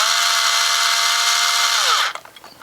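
A power drill drives a screw into scale truck foam, a loud steady whine that drops in pitch as it winds down after about two seconds, followed by a few light clicks and handling noises.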